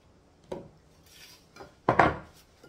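Thick mayonnaise miso sauce spooned onto salmon fillets for an oven-baked Japanese creamy miso salmon, giving two soft scraping clinks of a utensil against the dish, the second louder, in an otherwise quiet kitchen.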